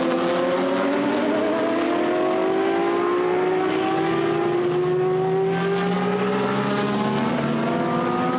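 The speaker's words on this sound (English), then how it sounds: "As the cars come down to the left-hander at turn number 8." GT race cars in a qualifying race at Misano circuit, a mix of old Audis and an SLS, engines roaring loudly together with overlapping rising and falling pitches as the pack heads into a left-hand turn.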